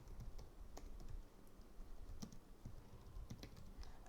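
Fingers type on a computer keyboard at a coding meetup, a steady patter of quiet, irregular key clicks against a low room hum.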